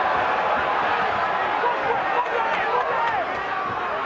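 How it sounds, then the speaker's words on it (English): Boxing arena crowd at a Gonzalez vs Letterlough fight roars and cheers in a dense, continuous wash of noise, with a commentator's voice running over it. "There's a lot of cheering going on."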